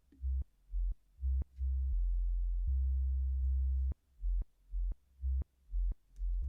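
A low sine-like bass line in a music mix for car speakers, with ducking that cuts it into rhythmic pulses, each dip lining up with a sharp click. A sustained stretch sits in the middle, with no voices over it.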